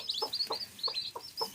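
A hen clucking softly in a rhythmic series of low calls, with the high peeping of her ten newly hatched chicks overlapping, close and fairly quiet.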